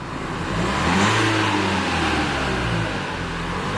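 A 2016 Renault Kadjar 1.5 dCi diesel with a fault that stops it revving up after a service, its engine rising briefly under throttle and then settling back toward a steady hum close by.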